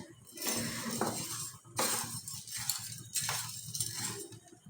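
A utensil clinks and scrapes against a pan as sugar is slowly stirred and melted into caramel for homemade sweet yogurt, in bursts of close metallic rattling separated by brief lulls.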